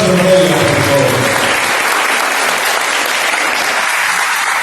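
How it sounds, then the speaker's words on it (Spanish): An audience at a ceremony presenting a book on ancestral cooking breaks into loud, dense applause, with voices briefly audible at the start before steady clapping carries on alone. "Fuerte aplauso para ella, por favor."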